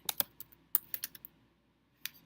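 Quick clicks of keys on a computer keyboard, a short burst of typing, then a pause and a couple more taps, close and quiet.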